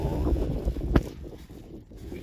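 Outdoor wind gusting across a microphone, a low rumbling buffet with one sharper gust near the middle, steady and fairly loud with no talking.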